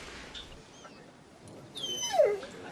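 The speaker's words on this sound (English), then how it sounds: "He's brought his dog in." A dog whimpers faintly at first, then gives a louder falling whine near the end, inside a vet's surgery where a boy has brought his limping pet that may have eaten something.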